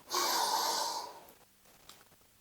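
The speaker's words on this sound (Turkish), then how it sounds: "3-4 saniye boyunca diyaframma derin bir nefes alıyorum" A single deep diaphragmatic breath drawn in through the nose for about a second, close and breathy, followed by quiet.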